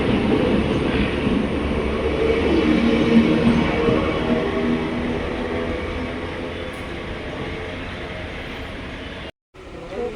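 A passenger train runs steadily on the rails near Kozhikode, Kerala, with a continuous rumble and clatter heard from inside, loud and close, before a brief dropout near the end.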